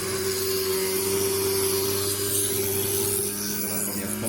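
A knife blade is drawn through the slot of an electric knife sharpener, giving a continuous motor hum under an abrasive grinding rasp that eases slightly toward the end, with no voices.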